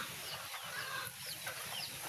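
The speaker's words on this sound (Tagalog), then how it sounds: "Mga manok ko, gutom na." Several hungry chickens cluck and chatter close by in a continuous, busy murmur of short calls over a steady low background hum, with no talking.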